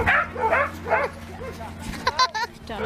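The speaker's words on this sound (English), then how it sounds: "Sled dog." Sled dogs at an outdoor sled dog event bark and yip in a few sharp bursts, fairly close, mixed with whimpering calls, with people talking nearby.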